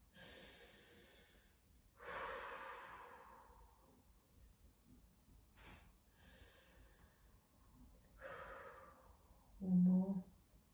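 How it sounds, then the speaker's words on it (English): Deep breathing during a judo stretching session, several slow, audible breaths in and out at a calm, even pace, close and soft, ending in a short voiced sigh. "And 3 deep breaths,"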